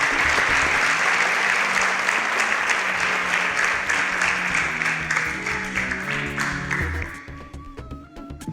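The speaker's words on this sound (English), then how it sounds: "Please, a round of applause for Matthew." An audience at the SPAK Nigeria competition show gives dense, sustained applause that stays loud for several seconds, then thins and fades out near the end.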